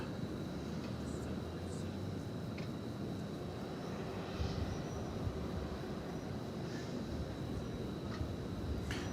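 An American Airlines Boeing 737-800 rumbles at night at a busy airport, a low steady engine roar heard from a distance under constant background hum, with faint scattered higher noises.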